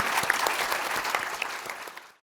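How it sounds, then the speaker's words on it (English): Applause from an audience at a medical symposium, dense clapping at close range that holds steady and then cuts off abruptly. "could you join me in giving our speakers a round of applause"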